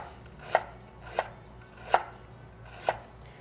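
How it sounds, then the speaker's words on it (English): A knife chops ginger on a cutting board with four sharp, evenly spaced knocks over a few seconds, close and quiet against a faint background hum. "I'll just help the blender out a little bit by cutting them up just a couple times"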